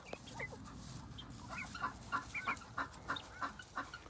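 Meat chickens in their pen give a run of soft, quick clucks and chirps, moderately close, over a steady background hiss.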